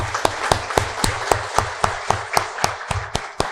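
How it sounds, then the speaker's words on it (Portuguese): Rhythmic clapping fills a municipal legislative chamber at a session opening, about a dozen sharp, evenly paced claps that sound close and distinct rather than a broad roar of applause. "que a gente possa dar uma salva de palmas para todas elas"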